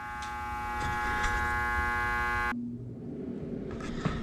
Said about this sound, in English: So obviously you heard that humming noise come on out here.